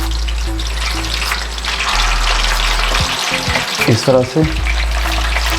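Chicken pakoras sizzle as they fry in hot oil, a loud continuous crackle and hiss close by, with a few spoken words and stirring noises near the end.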